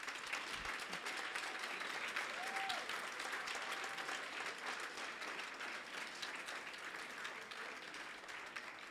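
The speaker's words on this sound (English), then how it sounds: "We are going to applaud ourselves and the awardees for an amazing, amazing evening that we had." Audience at a university awards ceremony applauds, a sustained dense wash of clapping from a large crowd heard at some distance, steady throughout with no voices standing out.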